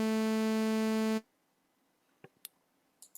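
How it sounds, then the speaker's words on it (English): Sawtooth wave from an analog oscillator: a harsh, brassy, harmonic-rich tone sustains for just over a second, then cuts out, followed by faint scattered clicks. "That's a sawtooth wave."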